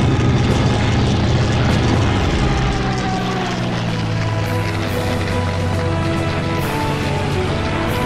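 Propeller fighter plane engine in the Combat Wings: Battle of Britain flight game, a steady loud drone with layered harmonic hum holding throughout, no talk over it.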